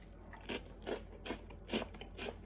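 Someone chews a crunchy oat snack mix right at the mouth, five loud crunching bites in a steady rhythm with brief pauses between, no talking.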